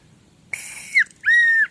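Two short, shrill whistle blasts, the second longer, ringing out clearly against near silence.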